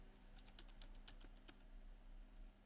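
Python code is typed on a computer keyboard in a quiet room, a quick run of light, close key clicks at an uneven pace over a low steady hum.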